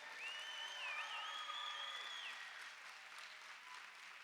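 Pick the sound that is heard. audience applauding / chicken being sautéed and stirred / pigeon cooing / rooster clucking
audience applauding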